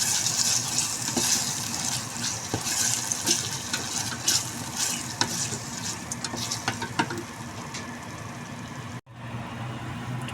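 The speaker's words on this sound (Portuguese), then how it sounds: "eu vou colocar um pouquinho de água para afinar aqui o molho da nossa parmegiana" A little water poured into concentrated tomato paste sauce for a stovetop parmigiana, with a steady sizzling simmer, soft liquid sounds and spoon stirring clicks, then a brief break near the end.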